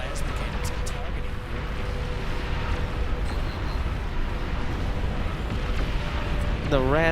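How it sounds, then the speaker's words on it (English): Explosions rumble continuously through a massive real-time strategy battle in Beyond All Reason, with juggernaut units blowing up amid plasma cannon fire. A dense, loud roar runs throughout, with a voice talking over it. "juggernauts are exploding by the dozen"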